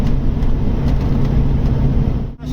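A Foden lorry, coming up for 17 years old, cruises on the motorway at its speed limiter with a steady, loud, low engine drone and road rumble filling the cab, continuous and close, without speech.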